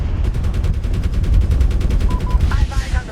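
An Apache helicopter cannon in Medal of Honor fires a steady rapid stream of loud, evenly spaced thumping rounds, with rotor rumble beneath and a brief voice near the end.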